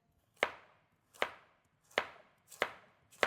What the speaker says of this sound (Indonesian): Jadi kalau aku potongnya miring-miring, terus baru diiris-iris nanti.